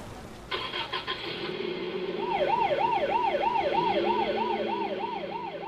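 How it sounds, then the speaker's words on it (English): An ambulance siren wails as the vehicle rushes off, its engine starting first before a loud, steady rising-and-falling siren sweep takes over and keeps cycling close by. "Why do you think the ambulance is rushing off like that?"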